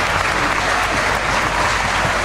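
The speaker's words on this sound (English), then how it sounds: "Fans now with a round of applause for Mike Seidel." Wrestling fans at a CZW event applauding, a dense, loud, continuous roar of clapping filling the arena with no voices standing out.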